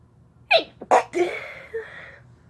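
A burst of close, loud sneezes set off by chhinkni snuff: a sharp first sneeze, a quick second one, then a longer breathy sneeze that trails off, heard alone in a quiet room.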